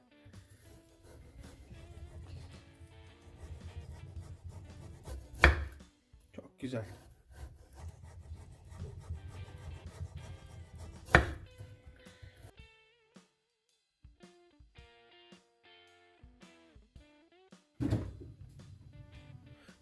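A knife saws and scrapes through frozen chicken döner meat, giving rough rubbing strokes in bursts with brief pauses and a few sharp knocks, close and fairly loud.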